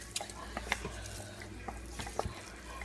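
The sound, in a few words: stirring beef stew in a pot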